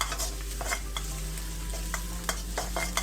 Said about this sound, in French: On le laisse frire jusqu'à ce qu'on puisse bien sentir cette petite odeur caractéristique